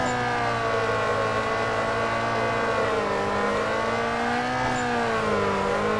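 A Toyota Corolla AE86 in Need for Speed Carbon revs hard and holds a steady high engine whine with slight pitch swells, loud and close with no talking over it.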